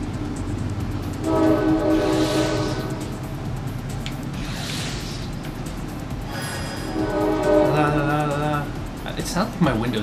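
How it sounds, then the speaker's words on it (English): A train passes in the TEC 3001 video game, sounding long, loud horn blasts twice over a rumbling rail roar. People talk over it throughout. "Train!"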